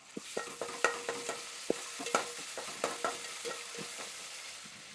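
Ginger garlic paste sizzles in hot oil in a pan with curry leaves and green chillies while a spoon stirs and scrapes it, sharp clicks landing every half second or so over a steady frying hiss.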